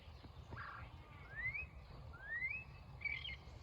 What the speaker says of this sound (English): It's like a mockingbird.